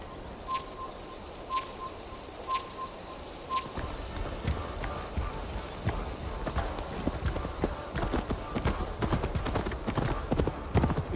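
Horse hooves in Assassin's Creed Valhalla, a steady run of close clip-clopping footfalls with faint bird calls and soft ambient game sound behind them.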